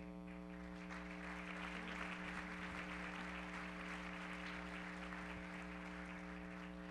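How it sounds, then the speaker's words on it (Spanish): Sustained applause from the audience at the general assembly of the Consejo Nacional Agropecuario, steady and even throughout, with a constant low electrical hum running underneath. "Reconocemos a todos ellos con un fuerte aplauso."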